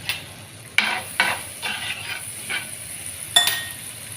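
Vermicelli roasts in melted cheese in a pan, with a close, steady frying hiss broken by several sharp spoon scrapes and stirring strokes.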